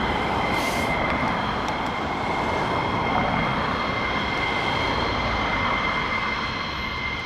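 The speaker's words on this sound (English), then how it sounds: "Gold 23 tanker on the taxiway at Mildermill." Tanker aircraft Gold 23 taxiing at Mildenhall, a steady broad roar of jet engines with a high whine, constant and moderately distant throughout, no talking.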